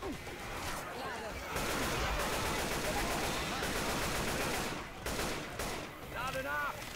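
Dense bursts of gunfire in Left 4 Dead 2, rapid automatic shots and heavy blasts layered together, loud and continuous, with voices shouting in German over the combat.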